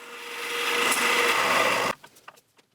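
Aluminum bar being drilled on a drill press with a dish-soap-and-water cutting fluid: a steady, fairly loud whirring grind for about two seconds, then the motor cuts off, leaving a few faint clicks and taps.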